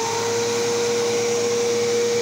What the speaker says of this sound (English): it's a pretty good vacuum